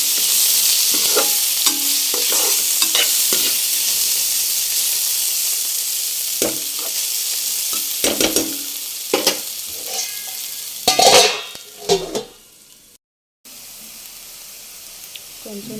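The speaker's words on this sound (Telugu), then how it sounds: "కొంచెం అల్లం వెల్లిపాయ పేస్ట్ కూడా వేసుకొని బాగా కలపాలి." Bitter gourd curry with ginger garlic paste is stirred in a pan: a constant sizzle broken by repeated scraping and clattering spatula strokes, busier toward the end before a brief cut to silence.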